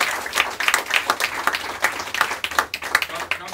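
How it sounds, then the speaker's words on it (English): A crowd at a campaign headquarters grand opening applauds with dense, steady clapping that holds for several seconds at a fairly loud level. "they deserve a big round of applause"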